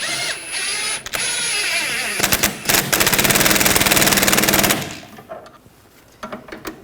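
A wrench tightens the sway bar link nut on a 2013-2019 Ford Escape, a rapid rattling burst that runs loud for a couple of seconds amid metallic clicks and workshop noise, then a few softer ratchet clicks.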